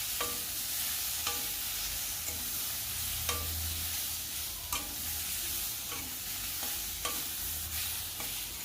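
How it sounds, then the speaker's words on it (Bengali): Mango chutney with salt and turmeric is stirred in a pan, a soft constant sizzle under a spoon that scrapes the pan at regular intervals, each stroke clear and close. "আবারও ভালো করে নেড়ে চেড়ে মিশিয়ে নিচ্ছি।"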